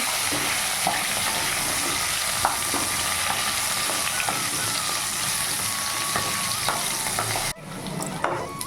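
Potatoes frying with bay leaf, black and green cardamom, cinnamon and cloves on a medium flame: a dense continuous sizzle with occasional stirring knocks, dropping abruptly in level near the end.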